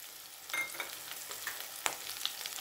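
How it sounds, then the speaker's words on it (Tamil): Shallots, green chili and curry leaves fry in a pan for a mutton rib bone gravy, a steady soft sizzle close by, broken by small scraping clicks as they are stirred. "இப்போ நல்லா வதங்குற வரைக்கும் கிண்டி விடுறோம்"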